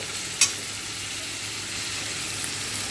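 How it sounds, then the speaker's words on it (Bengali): Onions fry in a pan with a soft, steady sizzle under a quiet hiss, broken by one sharp utensil clink near the start. "পেঁয়াজটা খুব ভালো করে একটু ভাজব খুব ভালো করে নাড়িয়ে চাড়িয়ে"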